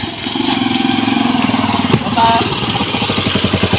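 A motorcycle engine labouring on a very steep road, a close, steady mid-pitched drone with a rough pulsing beat. Voices talk over it throughout.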